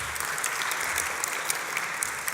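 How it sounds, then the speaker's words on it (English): Steady round of audience applause at a Melbourne event, many hands clapping in a dense, even wash at moderate distance, unbroken throughout with no voices on top. "a big round of applause, please, to Benji"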